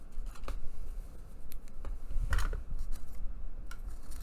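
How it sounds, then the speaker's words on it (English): Scissors snip through card stock for a greeting card panel, a close, steady run of crisp cuts with a few sharper clips standing out, and no talking. "Scissors."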